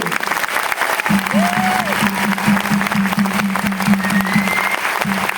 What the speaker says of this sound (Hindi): जोरदार तालियां समीर मोदी जी के लिए हो जाए